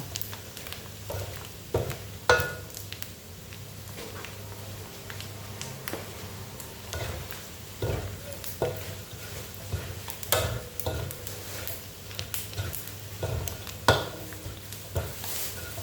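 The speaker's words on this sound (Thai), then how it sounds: "นี่ค่ะเราเคี่ยวให้น้ำมันออกมาเยอะ ๆนี่ค่ะ" Pork skin cracklings simmering in their own rendered fat, a soft continuous frying hiss with scattered clinks and scrapes of stirring and a low steady hum underneath.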